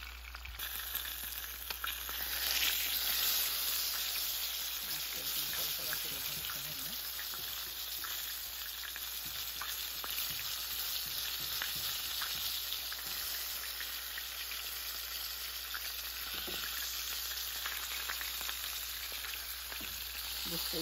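Koi fish frying in oil with oil spooned over it, a continuous soft crackling sizzle that stays even throughout, fairly quiet with no talk.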